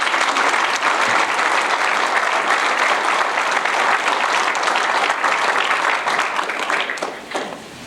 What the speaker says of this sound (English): give all of those folks a great round of applause